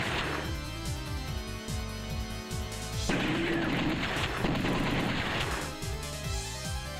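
Rapid gunfire rattles in bursts as enemies are shot in a video game auto-scroller level. The shots come dense and loud over busy game music, with a heavier stretch in the middle.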